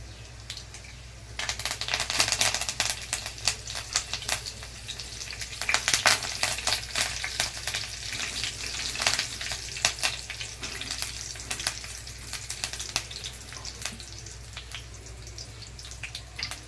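Curry leaves crackle and sizzle in hot oil with garlic fried reddish-brown, a busy spitting hiss with bursts of sharp pops, close and steady with no talking, for a Konkani-style black chana usal.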